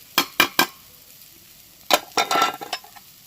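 Rice being mixed into fried cauliflower stems in a pan: three quick scraping clinks of a spatula, a pause, then a busier burst of stirring and scraping with a light sizzle.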